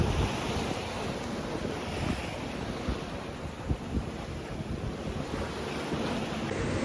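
Rolling ocean swells wash steadily around a sailboat at sea in the Meltemi wind, with constant broadband wind buffeting the microphone and no voices throughout.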